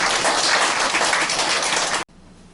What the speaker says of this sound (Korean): 우리 따뜻한 박수로 맞이해 주시기를 바랍니다.